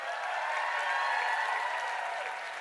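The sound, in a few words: applause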